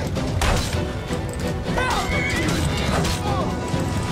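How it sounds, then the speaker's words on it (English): A horse whinnies and neighs in a Skyrim fight, joining an attack amid crashing and thudding combat effects, all loud and continuous with a busy game background. "Wow, my horse is attacking him too."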